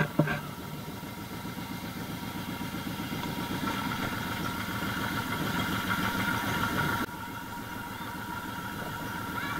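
A motorcycle idles at a campsite entrance, a steady close rumble with a fast even throb that holds for the whole stretch. There is a slight drop in level near the end, and no one talks.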